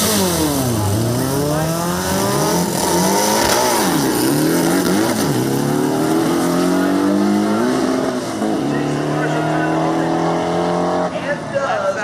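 A full-race Volkswagen drag races down the track, engine revving hard through repeated rising gear pulls, loud and close, with other engine noise and an announcer talking over it.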